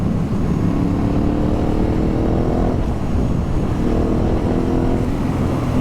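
A Ducati Hypermotard 950 RVE motorcycle accelerates hard with a steady, loud engine roar, its pitch climbing and dropping twice as the quick shifter snaps through gear changes without a break in the sound.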